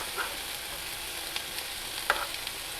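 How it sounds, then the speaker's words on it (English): Sirloin beef sears in a hot pan with a soft, steady sizzle, and a few light clicks and taps from the pan or a utensil stand out. "Try to get a good sear on that beef there."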